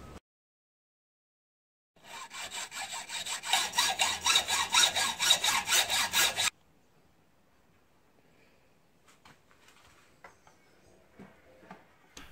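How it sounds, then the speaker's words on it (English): A carbon bicycle steerer tube on a Yoeleo R6 disc road bike is cut to length with a hand saw: about four and a half seconds of close, steady back-and-forth rasping strokes, followed by near silence and faint handling noises. "I'm ready to cut the excess steerer tube off"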